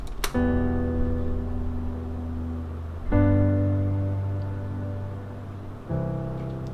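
A piano plays three sustained chords at evenly spaced, rigidly even intervals, each struck cleanly and left to ring and decay before the next.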